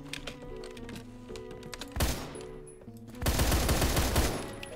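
Gunfire in the video game Phantom Forces: a rapid automatic burst, a short pause, then a longer sustained burst of loud shots over faint in-game background noise.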